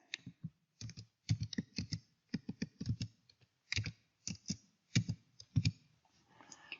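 Typing on a computer keyboard while entering a name during Apple ID sign-up, a close, dry run of quick key clicks in uneven bursts with short pauses between words.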